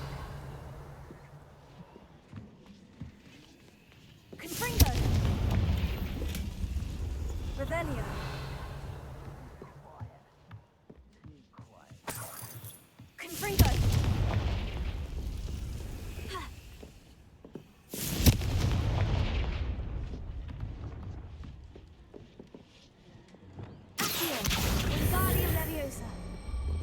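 Confringo fire spells blasting in Hogwarts Legacy, three or four loud booming bursts each decaying over several seconds, separated by quieter stretches of game ambience and footsteps.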